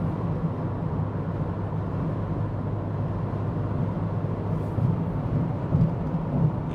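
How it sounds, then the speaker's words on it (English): Steady wind and tire roar fill a sports car cabin cruising on a highway over a louder road surface, a constant low rumble that stays even throughout with no talking. "Wind noise, tire noise. This is a louder road surface, I will say that."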